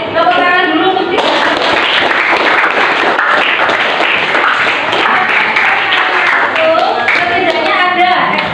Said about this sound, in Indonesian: tepuk tangan dulu untuk dia